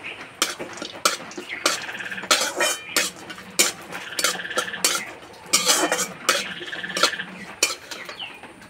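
Chopped almonds and cashews sizzle in ghee with bay leaf and cardamom in a wok, under repeated sharp scrapes and clinks of a spatula against the metal pan in an uneven rhythm, close by with no talking.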